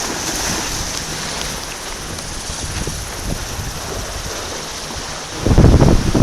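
Strong wind of 20 to 25 knots roars across the Mozambique Channel, with waves washing steadily around a sailboat and a louder surge of water crashing close by near the end, and no voices.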